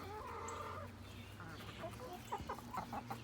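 Broody backyard hens cluck softly nearby, a low run of short, throaty clucks and murmurs that grows choppier toward the end, with faint background hum.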